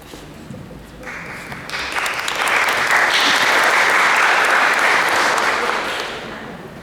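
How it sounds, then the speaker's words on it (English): Audience applause at a No Nukes speaker panel in a church hall, swelling from a scattered start into a loud, dense, sustained ovation before tapering off near the end. "I've already gotten applause."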